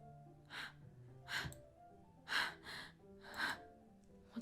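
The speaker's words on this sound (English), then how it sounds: "It sounds like breathing. A sharp inhale, like someone sucking the air through their teeth." Breathing in Doki Doki Literature Club, four soft breathy gasps spaced about a second apart, each a short sharp inhale through teeth, close and quiet with no talk.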